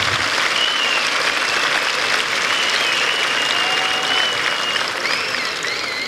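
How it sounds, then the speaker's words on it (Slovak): A festival audience in Detva applauds its supporters with steady, dense clapping that fills the whole stretch. A few high whistles rise above it, and no one speaks. "Takže naozaj zaslúžia si títo podporovatelia váš potlesk."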